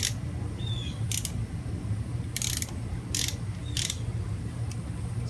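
Ratchet wrench tightening clutch cover bolts on a Suzuki Boulevard motorcycle, giving several short bursts of clicking spread across the clip over a steady low background hum.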